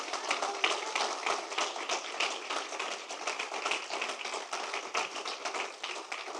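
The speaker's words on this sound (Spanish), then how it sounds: "denle un aplauso al Señor" Rhythmic congregational clapping in praise during a church sermon, many hands striking together in a steady, fairly even beat that keeps going throughout.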